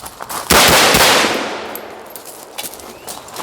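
A PSA Type 56 Spiker AK rifle with no flash suppression fires a loud, close shot that rings out and decays over a couple of seconds, with fainter clicks and handling noises after.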